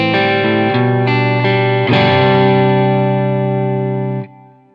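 An electric guitar rings out sustained clean chords with reverb and sustain, a few strums blooming into a wide, washy tail before fading, with no talking.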